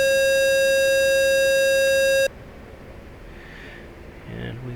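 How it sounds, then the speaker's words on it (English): A steady electronic warning tone from the A-10 cockpit in the DCS flight simulator sounds loudly and alone for about two seconds before cutting off abruptly, leaving quiet background noise. "The siren's going to go off as I'm intentionally shedding energy to slow down."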